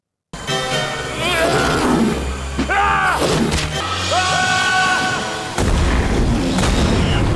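A loud C4 explosion set off in an egg to lure a Piranhaconda toward a waterfall in a 2012 creature film, a sustained booming roar layered with screeching creature cries and a heavy low rumble that swells again near the end.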